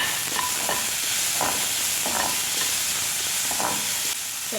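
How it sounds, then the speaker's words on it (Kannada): Tomatoes go into a hot pan of tempering with dried red chillies for upma and are stirred, giving a steady sizzle broken by a few soft scraping strokes, close and moderately loud. "ಈಗ ಇಷ್ಟ ಆದಮೇಲೆ ಇದಕ್ಕೆ ಟೊಮೊಟೊ ಹಾಕ್ಕೊಳ್ಳೋಣ."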